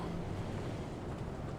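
A steady rumbling wash of rough ocean water and wind in the video game Uncharted 3, continuous and fairly loud with no voices.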